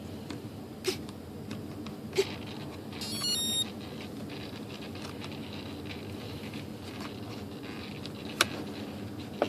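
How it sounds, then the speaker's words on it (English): A voltage alarm in an ASH26 2.6 m composite RC sailplane gives a short, thin electronic beeping burst, faint over a quiet room with scattered small clicks and knocks. "I got my voltage alarm, even though I'm not flying this now."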